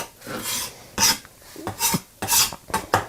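A knife chops an onion finely on a board in a home kitchen for stewed chicken with beans, several crisp, uneven strokes one after another, close and clear with no talking.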